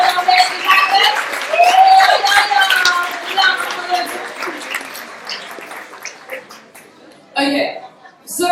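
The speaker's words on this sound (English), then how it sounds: "Can we please give a round of applause for our amazing panelists?" Audience applause for panelists at a Cape Town jam session, clapping and cheering mixed with voices, thinning out partway through before a short final burst.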